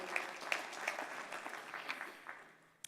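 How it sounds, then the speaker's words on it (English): Applause from a business audience at a mayor's address to a board of trade, fairly faint and patchy with a few sharper claps standing out, tapering off toward the end. "you've applauded at that"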